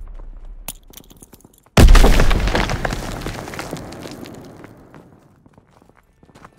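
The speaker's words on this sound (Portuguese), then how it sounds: "Lançando granada!" A grenade blows up in a World War II shooter game: after quiet scattered footsteps and small sounds comes one sudden loud blast with a long rumbling decay, then sparse noise continues.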